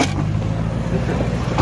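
A vehicle drives along an off-road trail on a trip to Meher Jabal, a steady close engine rumble heard alone with no talking.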